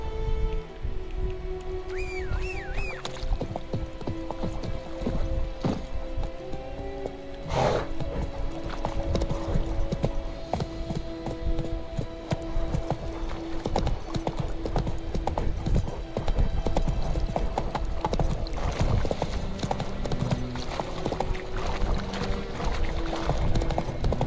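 Horse hooves clip-clop steadily on the ground in the open-world game The Witcher 3: Wild Hunt, a continuous rhythmic trot heard close, with light rain and ambient game sounds underneath and no talking.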